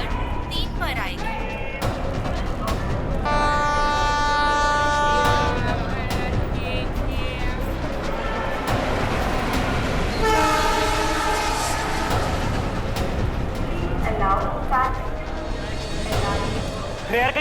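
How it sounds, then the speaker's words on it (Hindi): Paschim Express train arriving at a station platform, loud rumbling wheels and carriages with repeated blasts of the horn, layered with platform crowd noise and people talking. "मुंबई से दिल्ली जाने वाली पश्चिम एक्सप्रेस प्लेटफॉर्म नंबर 3 पर आएगी"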